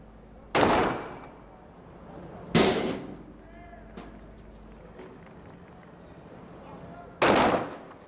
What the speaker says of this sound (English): Good clean shots from the Bahrain Defence Force B team sniper.